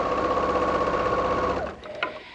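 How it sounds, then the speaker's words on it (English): Sewing machine stitching across pieced quilt sections, a steady fast motor whir with rapid needle pulses that runs for about a second and a half, then stops, leaving a few faint clicks. "And just sew from one section to the other."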